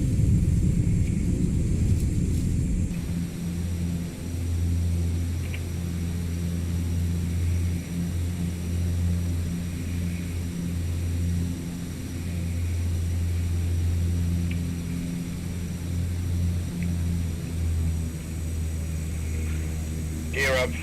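A CL-415 water bomber takes off in Microsoft Flight Simulator 2024 amid Queensland wildfires, its propeller engines giving a loud, steady droning roar that holds for the whole stretch, with a brief crackle near the end.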